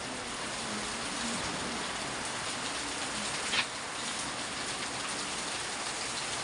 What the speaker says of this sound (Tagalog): Panay-panay ang ulan, panay-panay po ang ulan na minsan lumalakas-lakas